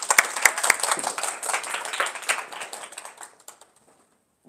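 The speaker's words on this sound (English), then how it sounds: "let's give a big round of applause for Jarrett." Audience applause at a school talk event, a burst of many hands clapping that thins out and fades to quiet over a few seconds, with no speech.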